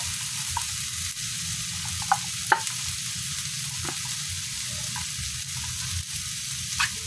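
Sardines go into a pan of cooking tomatoes and are stirred while frying, making a continuous moderate sizzle with a few sharp clicks of a utensil against the pan, and no voices.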